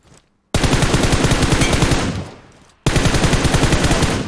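An enemy player in PUBG Mobile fires automatic weapons in two loud, close bursts of rapid shots separated by a short pause.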